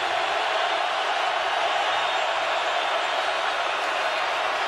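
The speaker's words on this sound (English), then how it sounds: "Crowd is roaring." A Seattle stadium crowd roars steadily at an NFL playoff game, a broad, unbroken wall of cheering and noise held at a constant loud level throughout, with no distinct voices standing out.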